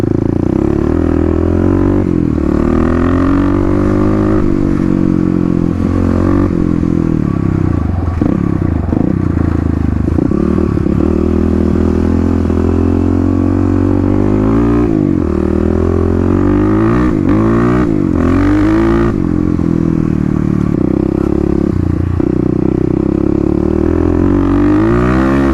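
Kawasaki KLX351 motorcycle with a lidless airbox and aftermarket exhaust riding laps, a steady loud engine drone rising and falling with throttle changes, close and continuous throughout with no talk.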